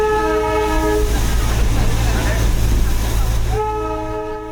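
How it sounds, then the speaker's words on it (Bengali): The Darjeeling toy train pulls out of the rain-soaked Darjeeling station, sounding a loud, sustained horn at the start and again near the end over a deep rolling rumble of the carriages. "ছোট্ট খেলনা রেলগাড়ি।"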